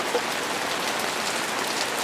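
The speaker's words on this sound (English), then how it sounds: "We finally got some rain, thank goodness." Rain falls steadily on a yard and lawn, a dense, even hiss of countless drops, close and fairly loud, with no voices.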